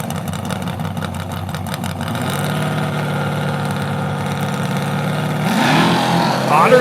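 Street-legal drag cars, a Camaro and a Mustang, sit at the line with loud, close engines idling, then a low throbbing rumble builds and rises into a harsh revving surge as they launch.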